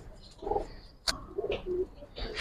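Pigeons in a loft in Old Dhaka coo in soft, low, throaty phrases, several short calls close by over a murmur of background noise, with a sharp click or flutter in the middle.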